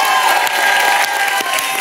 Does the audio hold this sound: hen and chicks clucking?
no